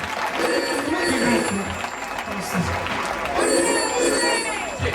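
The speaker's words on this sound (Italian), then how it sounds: "Ecco anche il telefono che suona" A telephone rings during a live outdoor concert in Dolo, near Venice: bright, repeating electronic ring tones come in two bursts over crowd noise and someone speaking loudly on a microphone.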